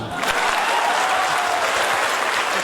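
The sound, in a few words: audience applause for Chacha Sahab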